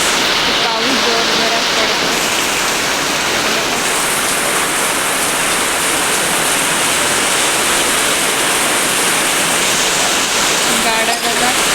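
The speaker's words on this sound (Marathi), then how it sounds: "किती पाऊस पडायला लागलेला आहे" Heavy rain pours down in a steady, dense roar, constant and loud throughout, with faint voices barely audible beneath it.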